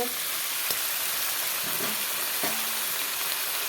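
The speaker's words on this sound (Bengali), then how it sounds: "ঝিঙ্গাটাকে পুরো লাল করে ভাজবো" Ridge gourd fries in a pan with a steady, close sizzle and a few faint clinks of stirring, with no one speaking.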